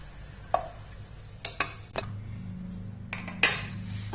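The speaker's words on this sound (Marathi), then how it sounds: "आता आपल्याला हे प्लेटमध्ये काढून घ्यायचंय।" A metal spoon scrapes and clinks against a pan while roasted khoa, loosened and slightly oozing ghee, is scooped out onto a plate, giving a few sharp knocks and soft scraping over a faint low hum.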